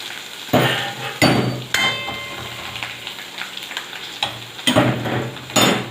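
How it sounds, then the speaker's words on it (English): Asafoetida sauteing in hot oil in a pan for an eggplant bharta, with a soft sizzle broken by several sharp clattering stirs of a utensil against the pan. "Let it saute a bit."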